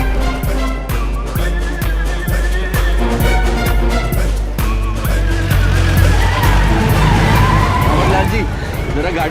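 A car driving fast in a Bollywood comedy film scene, a loud engine roar with rhythmic thumping beats and skidding squeals, layered under dramatic music and shouting voices throughout.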